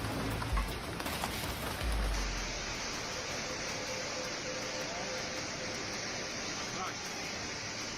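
Thick hail pelts down onto house roofs and parked cars, a dense, loud, continuous hiss and clatter of countless impacts with a few heavier knocks near the start.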